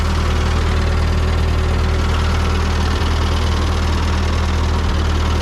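Old Ford 9N/2N tractor engine idling close by, a loud, steady low rumble with an even throb and no pauses, running alone without talk.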